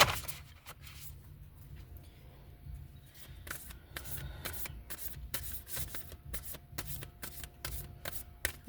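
Oracle cards being shuffled by hand, a soft rustle at first, then a run of crisp riffling bursts and slaps in an uneven rhythm, quiet and close, with no talking.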